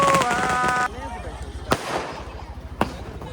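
Firecrackers go off for the groom at an Assamese wedding: a loud, dense burst of noise with music at the start, then two sharp, separate bangs over a busy crowd background.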